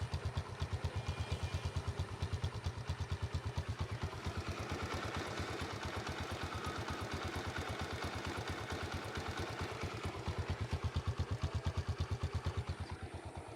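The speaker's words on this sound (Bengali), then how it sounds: "ইঞ্জিনের সাউন্ড কিন্তু খুবই সুন্দর সাউন্ড" A used Dayang 80cc motorcycle engine runs steadily at idle, a rapid, even putter with light mechanical clatter, heard fairly close and alone for the whole stretch.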